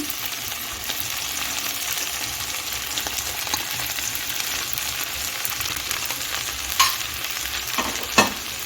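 Vegetables being gently stirred with cumin in a hot pan for flattened-rice pulao, a steady broadband sizzle with soft spoon scrapes and two brief sharper clinks near the end.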